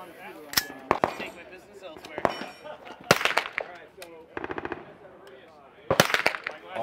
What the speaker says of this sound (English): we're shooting 9mm in a quarter circle 10 PCC, and this has got the Eclipse trigger